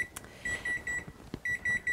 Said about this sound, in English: Oh, got to turn off the timer there.